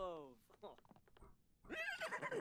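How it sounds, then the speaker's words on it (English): A horse in The Sims 4 video game whinnies with a quavering, descending call, followed by a few soft thumps and then a burst of louder, rougher vocal noise up close. "did the horse just come into the house?"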